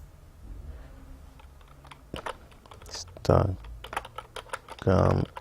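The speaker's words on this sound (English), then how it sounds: "I type in the name like that using Montserrat regular" Typing on a computer keyboard, with scattered close key clicks and a couple of dense rapid bursts, set against a quiet background and a bit of speech.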